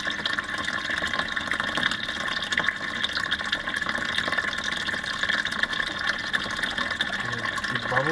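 Water steadily fills a soda bottle bell siphon in an aquaponics setup, a continuous gurgling, bubbling trickle with faint dripping, close and even throughout.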